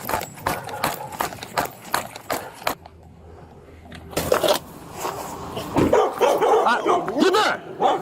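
Two dogs on a dirt road bark in loud, repeated bursts, with a pause and then more barking mixed with someone shouting over them and an engine running nearby.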